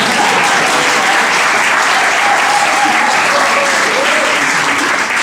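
Loud, sustained applause from a large crowd, a dense, even wash of clapping that continues throughout.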